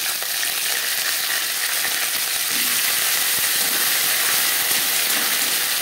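Bay leaves, whole cumin seeds and a small amount of ginger paste fry in a pan for chana dal, giving a steady, loud, dense sizzle with faint stirring scrapes and no voices.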